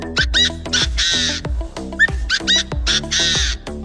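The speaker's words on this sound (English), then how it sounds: "This is a partridge." A partridge gives a series of harsh, grating calls in short bursts, loud and near, with a rhythmic beat running underneath.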